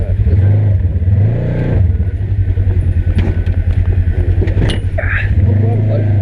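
A Polaris RZR 900 Trail side-by-side crawls in low range off-road, its engine giving a steady low rumble with slight surges, heard close under men's conversation.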